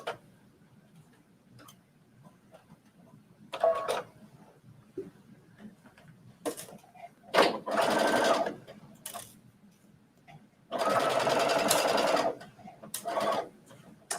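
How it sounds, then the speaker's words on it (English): A sewing machine runs a long basting stitch in short bursts of rapid mechanical whirring, separated by quiet pauses, close and fairly loud. "So, we're at the sewing machine. I'm just going to run a basting stitch to this"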